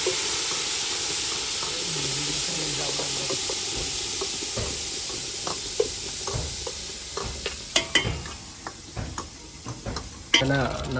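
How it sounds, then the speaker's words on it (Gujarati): Ghee tempering for chole (chickpea curry) sizzles in a pan with a steady frying hiss, while sharp clinks and knocks of stirring grow more frequent toward the end, close and fairly loud. "છોલે બનાવીએ છીએ આજે એનો વઘાર ચાલુ છે"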